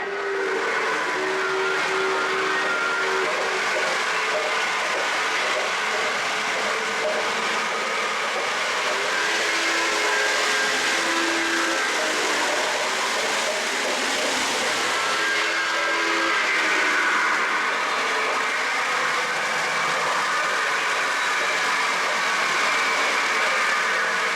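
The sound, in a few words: model train running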